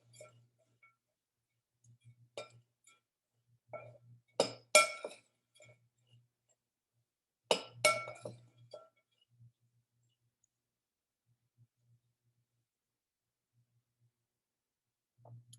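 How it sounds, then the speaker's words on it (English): A spoon stirs oats and mix-ins in a bowl, giving sparse clinks and scrapes against the bowl in two short bursts with quiet gaps between. "You can use a spoon to stir them together."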